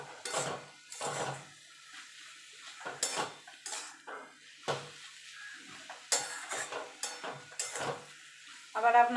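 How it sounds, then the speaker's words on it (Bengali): Fenugreek greens with lentil dumplings frying in a pan, a soft sizzle broken by repeated scraping and clinking strokes of a metal spatula stirring against the pan, close and alone. "এবার এটা আরেকটু ভাজা ভাজা করে নেবো যাতে বড়িটা একটু সিদ্ধ হয়ে যায়।"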